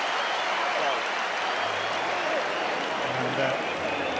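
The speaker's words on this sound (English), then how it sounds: "this applause for him" Crowd at a Leicester v Saracens rugby Premiership final applauds as Dan Cole is replaced, steady sustained clapping from a large stadium audience with a commentator's voice over it.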